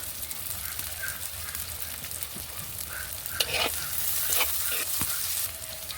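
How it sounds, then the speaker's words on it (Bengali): Onion and chopped garlic fry in a pan with a steady close sizzle, broken by a few sharp scraping stirs near the end; no voices. "পেঁয়াজটা ভালো করে ভেজে নেব"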